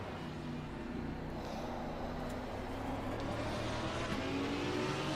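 Racing car engines from a driving sim video game hum steadily throughout, a continuous layered drone of motors at even loudness with no clear passes or shifts standing out.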